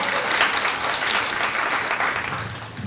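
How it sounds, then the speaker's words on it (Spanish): A crowd applauds steadily, dense clapping filling the whole stretch at an even level. "Un aplauso para Natalie."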